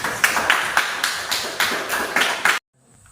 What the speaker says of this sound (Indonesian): Tepuk tangan dulu untuk Eca.